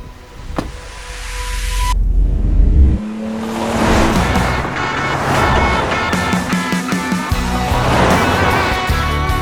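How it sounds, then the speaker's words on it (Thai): A Ford Everest SUV drives on beach sand. Its engine revs and rumbles loudly after a brief mechanical whir, rising and falling as the vehicle accelerates and turns. "ก็มาลองขับบน ทรายนะครับนี่นี่เป็นประสบการณ์ครั้งแรกเลยที่ได้ขับบนทรายนะครับ"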